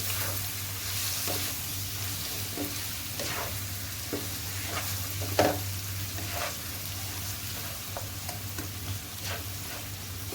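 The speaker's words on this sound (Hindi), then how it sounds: "अब ये सारी चीज़ें डाल के इनको अच्छी तरह से भून लूँगी 4 से 5 मिनट के लिए।" Spices, including dry coriander powder and cumin, roasting in a pan for boneless chicken Mughlai handi: a soft, continuous sizzle with regular light spatula scrapes and one louder knock midway, and no voices.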